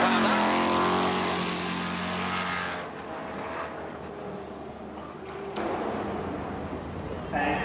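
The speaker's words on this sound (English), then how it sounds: "getting that big talking 308 Holden V8 powered up" A Holden 308 V8 rally car engine roars loudly at a forest rallysprint, its sound falling away after a few seconds into quieter road and ambient noise.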